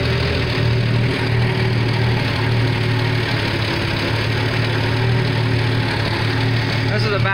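A car engine idles steadily at about 900 RPM with an oversized carburetor, running rough and hot. Its low drone stays loud and constant throughout, with a faint hint of knocking.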